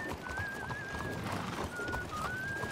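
A white horse in the video game RedM (Red Dead Redemption 2) gives a thin, high whinny over busy in-game street ambience, with a faint whistling tone running through the background.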